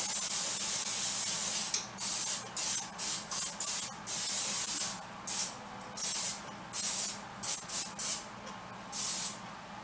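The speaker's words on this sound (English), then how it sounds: "Aerosols, you know, spray and it's greasy, so I always do it over the sink" Short bursts of greasy aerosol cooking spray hiss in quick succession over a sink, some brief and some longer, close by with no talking.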